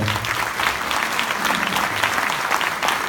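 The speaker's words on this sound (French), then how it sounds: "Ça, on peut l'applaudir parce que c'est vrai que c'était le boulot." An audience at a conference breaks into applause, a continuous bed of many hands clapping, moderately loud and even throughout, with a low murmur beneath.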